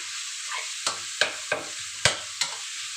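Glass noodles with minced pork and fresh holy basil stir-fry in a sizzling pan, a steady hiss punctuated by five sharp spatula scrapes at a roughly even pace, no voices.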